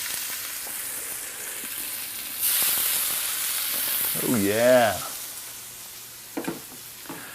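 Buffalo steaks frying in a cast iron skillet give a steady, close sizzle and hiss, swelling louder partway through, while a person speaks briefly over the cooking.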